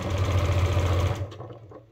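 Sewing machine running a fast, steady back stitch on an upcycled sling bag, a close mechanical whir with rhythmic knocking that stops after about a second, leaving faint clicks.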